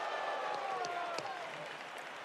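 A live wrestling arena crowd at an NXT event roars and applauds continuously, a dense sustained cheer with some whistles, while a commentator talks over it.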